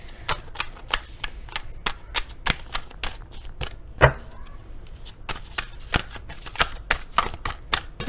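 Oracle cards are shuffled and handled close by, giving a rapid series of crisp papery flicks and taps that come in bursts throughout.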